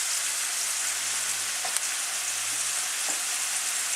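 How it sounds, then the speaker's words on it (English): Onion, garlic and vegetables frying in a hot pan for shepherd's pie give a steady, even sizzle with no break, and a couple of faint scrapes come through as they are turned. "Put it in at a nice heat and just keep turning it, moving it about the pan until you get a nice brown colouring."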